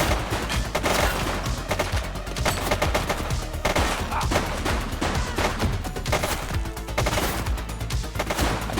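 Dense, continuous gunfire in the video game Cops & Knobbers, rapid overlapping shots forming a loud sustained barrage with no pauses and no talking.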